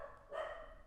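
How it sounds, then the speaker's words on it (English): A single dog bark, faint and distant, sounds once briefly in a quiet room. "you can probably hear my dog barking"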